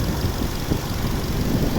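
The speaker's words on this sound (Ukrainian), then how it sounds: "Це робота двигуна." A petrol 1.6 MPI engine in a 2011 Opel Astra J with an automatic gearbox runs at a steady idle, giving a close, even hum and rumble with no change in pitch and no voices.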